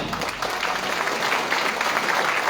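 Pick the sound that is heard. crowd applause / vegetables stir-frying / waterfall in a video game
crowd applause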